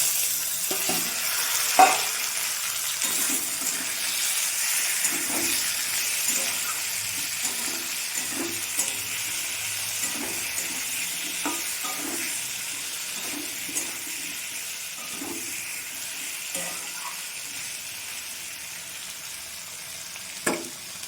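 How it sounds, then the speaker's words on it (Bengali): Chopped tomato hits a pan already holding potato and onion, frying with a constant soft sizzle and scattered light stirring clicks, faint voice traces underneath, a few sharper knocks standing out. "দিয়ে দেব কেটে রাখা টমেটো কুচি"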